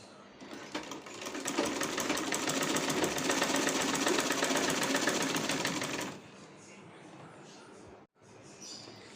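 A sewing machine runs steadily for about six seconds while double-stitching the sleeve joint of a garment, a fast even whir close by, then stops, leaving quieter handling sounds and a brief dropout.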